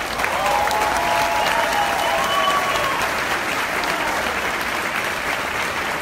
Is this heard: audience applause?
yes